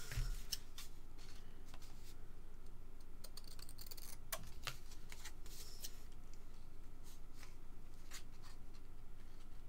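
Scissors trimming a piece of paper card for a handmade stamped greeting card, a run of quiet, crisp snips and small clicks, close and faint against a soft background hiss.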